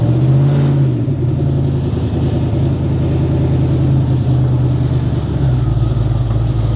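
A 1950s hot rod's engine runs steadily and loud, with a deep, rumbling idle that rises briefly early on and again near the end, with no talk over it.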